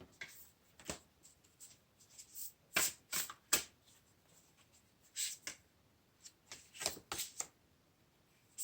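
Oracle cards shuffled by hand, a series of short, crisp riffling and snapping bursts separated by quiet gaps, close and fairly soft, with no talking.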